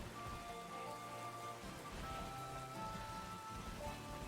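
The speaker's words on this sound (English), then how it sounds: "You're standing in the rain." Steady rain in the Pokémon Scarlet video game falls as a soft, continuous hiss and patter, faint and unbroken, with no talking.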